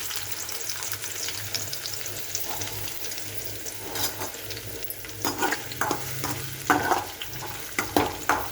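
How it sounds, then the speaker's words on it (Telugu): Chopped onions hit hot oil in a pan with a steady, close sizzle, broken near the end by several sharper crackles and spoon scrapes as they are stirred. "నూనె కాగింది. ఉల్లిగడ్డలు వేసుకుంటాను."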